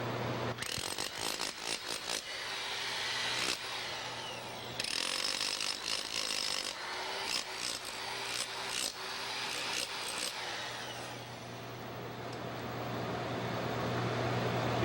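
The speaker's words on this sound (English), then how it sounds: "We're just going to chip out 3/8 to a half an inch of this concrete on here." A small lightweight hammer chips out concrete in an industrial crack and joint repair, giving a steady run of rough, gritty rapid impacts and scraping that keeps going close up, with no talk.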